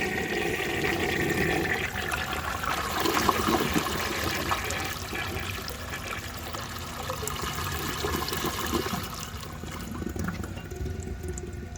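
A 1930 Eljer Sanus toilet with a Master fill valve flushes a load of about fifty bottle caps, a loud sustained rush and swirl of water running steadily for the whole stretch, heard close and alone.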